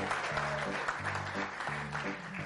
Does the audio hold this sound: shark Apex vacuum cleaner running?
no